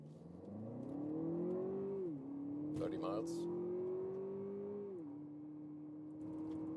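Lexus TX luxury SUV accelerating hard in sport mode, a steady engine tone climbing in pitch with two brief dips at gear shifts, heard from inside the cabin and continuous throughout.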